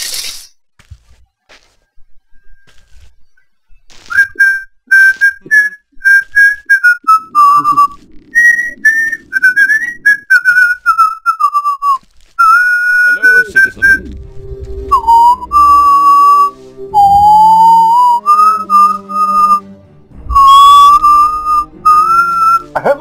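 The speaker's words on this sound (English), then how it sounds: "Whistle isn't like too awful to hear, but who cares?" Melodic whistling in an Ultima 9 game recording: bright, wavering tones run in phrases, loud and close, over clattering game effects and a low musical bed in the second half.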